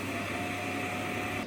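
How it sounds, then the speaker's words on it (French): A robot vacuum's docking station empties dust with a continuous, even mechanical whir and a faint steady tone, loud and close throughout. "Commencez à vider la poussière."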